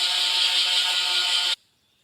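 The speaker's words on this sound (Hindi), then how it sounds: "अब दही डाल के इसे ग्राइंड करना है। ये देखिए, दही हमारी ग्राइंड हो रही है।" A kitchen grinder blends yogurt into a green chutney with a loud, steady whirring buzz that holds for about a second and a half, then cuts off sharply into near silence.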